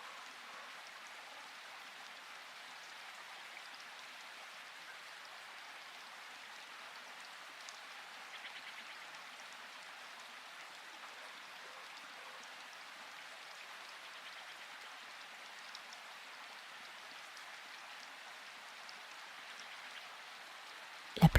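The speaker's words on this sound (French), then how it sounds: "La pluie continue de descendre doucement sur votre cou" Gentle rain falls steadily and softly, a faint, even patter continuing for the whole stretch with no clear pauses, and a brief louder knock right at the end.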